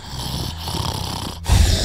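A sleeping Minecraft character snores in a game, a loud, close, rasping breath with a heavier snort at the end, with no talk over it.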